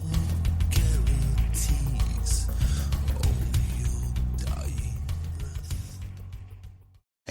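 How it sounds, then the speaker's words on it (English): A door swings open with a long, loud mechanical creak and grinding groan that stretches for several seconds, then stops abruptly before a brief final knock. "get ready to open the door"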